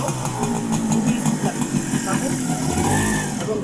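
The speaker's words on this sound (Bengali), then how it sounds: "এখন আমরা গাড়িটি অন করবো। সাউন্ডটা শোনেন, সাউন্ডটা দেখেন কতটা স্মুথ" A Honda CDI 100cc motorcycle engine runs steadily with a smooth, even low hum close by, while a person talks over it throughout.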